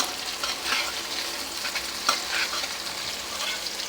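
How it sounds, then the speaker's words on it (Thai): Coarsely pounded chili and garlic stir-fried in a pan, giving a steady close sizzle and frying crackle with scraping stirring strokes throughout and one sharper clack near the middle, no voices. "พริกกระเทียมเนี่ยโขลกไว้หยาบๆ ไม่ต้องละเอียดมาก ผัดให้หอม"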